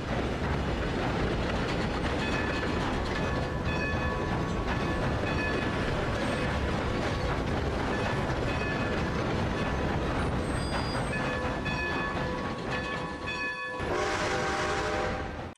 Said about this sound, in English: Let's take our fancy dancy train ride home